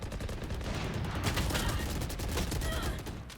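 Rapid bursts of gunfire from the tactical shooter game Valorant crackle continuously and loudly over a dense, steady game soundscape, with no one speaking.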